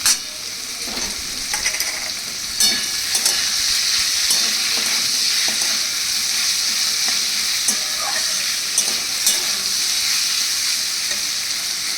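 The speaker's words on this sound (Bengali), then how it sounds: "আমি এখন এর মধ্যে দিয়ে দিচ্ছি এই যে আদা আর কাঁচা লঙ্কা কুচি" Chopped ginger and green chili sizzle in hot oil in a pan, a loud continuous fry with occasional stirring clatter and no voices.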